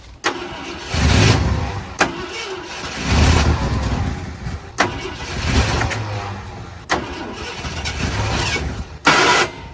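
A Ford F-100 pickup, revived after sitting for years with a freshly cleaned carburetor, cranks repeatedly in several loud bursts, catching and sputtering briefly between sharp clicks and pauses.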